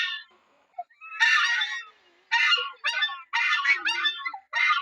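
A large domestic duck with a goose-like voice gives loud, harsh honking calls in several bursts, close and clear, with quiet gaps between them.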